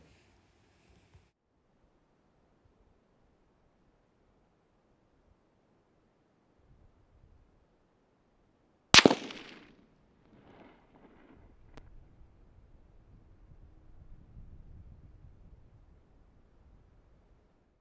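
A single loud, sharp shot from a Ruger SFAR .308 rifle, fired with its factory trigger and 168-grain Federal Gold Medal Match ammunition at a target 100 yards away, breaks a near-silent scene and is followed by a quick decay and faint outdoor rumble.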